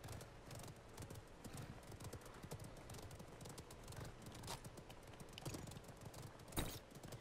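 Horse hooves gallop in the battle royale video game Realm Royale, a steady, busy clip-clop rhythm running throughout at a moderate, fairly faint level against game noise.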